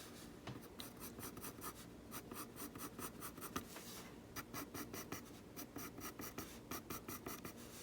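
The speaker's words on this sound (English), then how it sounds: "Move your pencil in different directions." Pencil crosshatching on paper during a drawing lesson, a steady run of quick scratchy back-and-forth strokes in short bursts, close and quiet, with no talking.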